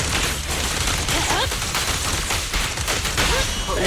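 Gunshots crack and rattle through a sniper fight in Zenless Zone Zero, rapid overlapping bursts packed among loud combat effects and short voiced lines.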